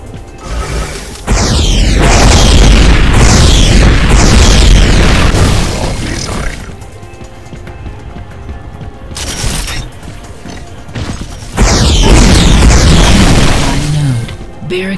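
Heavy booming explosions from Unreal Tournament 3 Warfare mode blasting a barricade apart, loud low rumbling bursts in two big waves with crackling debris between them.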